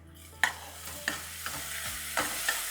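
Onions fry with turmeric in a pan as a spoon stirs them, giving a handful of sharp scraping taps over a steady soft sizzle, fairly quiet overall.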